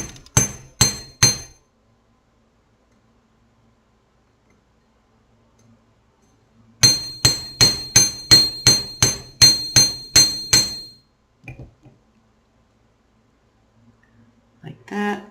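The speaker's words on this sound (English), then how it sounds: "this time I'll just hammer it instead of marking it and hammering it straight" A hammer strikes wire shaped into an earring curve in quick metallic taps: a short burst of three or four blows, a long pause, then a longer run of about ten sharp, ringing hits close by.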